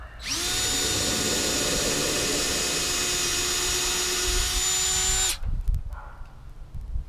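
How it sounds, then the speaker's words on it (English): A cordless drill whines at a high, steady pitch for about five seconds while drilling into hickory wood, then cuts off, leaving a few faint knocks and rustles. "I'm going to drill out around the perimeter."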